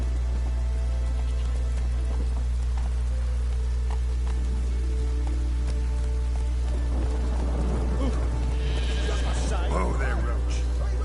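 Roach, the horse in The Witcher 3, whinnies near the end over a steady low hum and rain-like patter, with a voice talking over it.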